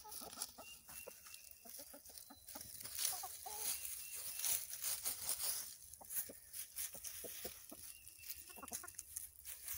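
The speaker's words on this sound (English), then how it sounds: "Happy chickens." Several chickens cluck and chatter close by in irregular bursts, a busy, lively farmyard murmur with no voices.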